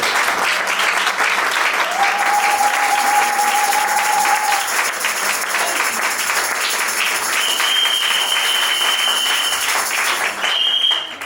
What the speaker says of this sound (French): Nous pouvons acclamer pour l'église, s'il vous plaît.